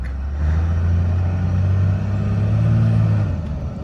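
A 2002 Cummins Ram diesel truck with a repaired transmission idles and revs nearby, a steady low rumbling engine that rises and falls smoothly over a few seconds with no talking.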